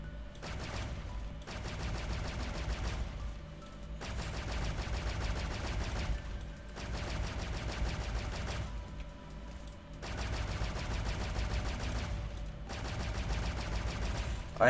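Gunfire in a shooter video game comes in sustained bursts of rapid automatic shots, several long volleys separated by short pauses, loud and close, with occasional talking alongside.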